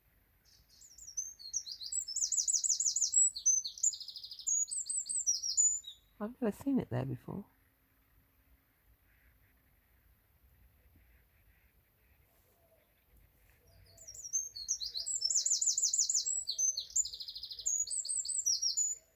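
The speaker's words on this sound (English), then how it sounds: "Here's the wren. He's sitting on the garage roof on the other side." A wren sings long, rapid trilling songs in two bursts from a garage roof, fairly close and clear, with a brief spoken remark in the quiet gap between them.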